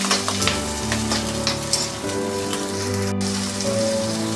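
Sri Lankan-style spicy dragon chicken fries in a pan, a loud, steady sizzle broken by scraping stirs, with a low tonal hum underneath and no talking.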